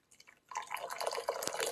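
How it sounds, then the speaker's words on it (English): Brewed Oriental Beauty oolong tea being poured off from its brewing vessel, a soft trickle and patter of liquid that starts after a brief quiet moment, fairly faint and close, with no one speaking. "Let's go ahead and pour this off."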